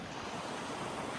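Sea waves wash around a fishing boat out on the water, a steady broadband rush with wind noise on the microphone and no voices.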